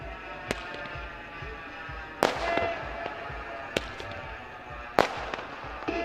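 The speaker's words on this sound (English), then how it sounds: "Fireworks all over the place and celebrations." Fireworks go off at the celebration after a cricket grand final, with sharp loud bangs at irregular intervals, a few crackles, and a steady hum of crowd noise between the blasts.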